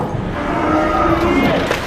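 A distressed dairy cow on a large UK intensive dairy farm lows loudly and steadily in a pen, a drawn-out bellowing call that runs through the whole stretch over dense barn noise.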